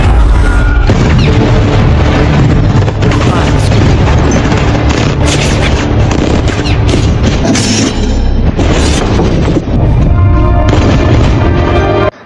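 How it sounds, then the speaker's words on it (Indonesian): Heavy gunfire erupts in an action film scene as dozens of gunmen shoot at an Audi car, with loud repeated booming shots and impacts under a continuous dramatic soundtrack, nearly unbroken for the whole stretch. "di sana sudah ada puluhan anak buah Thomas yang menunggu dan menembaki mobil Audinya"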